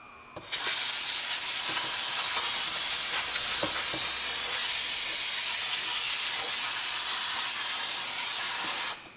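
Continuous spray of water washing debris off a rear brake drum, a loud steady hiss that starts abruptly, holds for about eight seconds with faint knocks, then cuts off.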